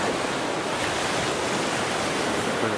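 Sea waves wash onto a beach on Panglao Island in the Philippines, a continuous loud surf roar mixed with wind buffeting close to the microphone.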